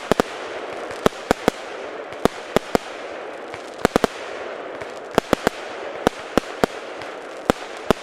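A firework cake with 25 mm shots pops sharp bursts at irregular intervals over a constant dense crackle, loud and sustained throughout.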